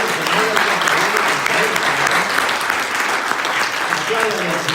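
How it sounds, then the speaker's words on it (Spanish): Congregation applauding steadily inside a church during a Sunday evening service, a dense, continuous wash of many hands clapping at even loudness throughout, with no gaps. "Estaban aplaudiendo, me parecía."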